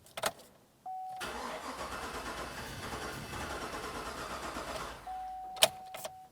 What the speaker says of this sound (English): Now we did crank the vehicle, it did not start